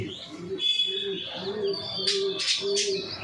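Soft, rhythmic pigeon coos repeat in a low throaty pattern, about five phrases, with higher bird chirps and twitters mixed in nearby.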